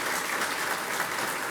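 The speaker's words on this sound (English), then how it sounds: "Can we please give her a round of applause?" An audience at a trails summit gives a steady round of applause, dense continuous clapping filling the whole stretch with no voices over it.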